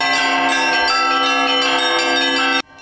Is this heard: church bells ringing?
yes